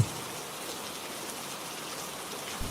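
Rain falls as a soft, steady hiss, faint and continuous, an atmospheric sound effect behind a spooky village tale, with no voice over it.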